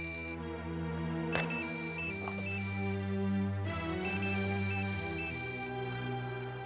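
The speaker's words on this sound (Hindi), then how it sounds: "आरती का फोन?" A melodic phone ringtone in a Hindi TV drama scene plays loudly and steadily, repeating its bright electronic tune without any talking.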